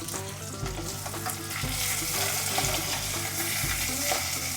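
Chopped tomatoes and green chillies fry with onions in a chicken curry pan, a loud crackling sizzle under rhythmic scraping stirs that repeat about once a second, with no talking.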